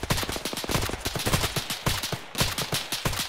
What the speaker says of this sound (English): Red, we need suppressing fire as we push up.